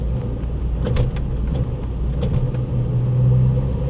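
A worn-out car with a loose front hub nut, heard from inside while driving: a steady loud engine and road rumble with a faint recurring hum and rattle, no talking.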